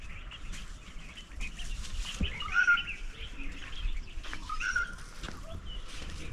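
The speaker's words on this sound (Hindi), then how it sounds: "सुने आप, आवाज़ें कितनी खूबसूरत हैं परिंदों की।" Birds singing on a cloudy hillside near Islamabad, scattered chirps and short calls at moderate distance over a soft outdoor background hum.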